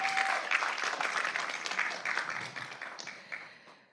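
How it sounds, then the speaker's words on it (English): Steady applause from a crowd at a city council meeting, many hands clapping together and gradually thinning out toward the end. "we should all give them a round of applause for that."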